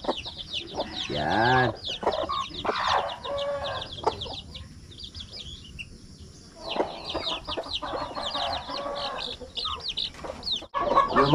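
Newly hatched chicks peeping in rapid high chirps alongside a mother hen's low clucks at a rural backyard coop, close and continuous, with a brief word spoken.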